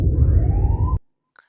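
A stock siren sound effect meant for a movie trailer, one loud rising wail held for about a second before cutting off abruptly, followed by a faint short tone.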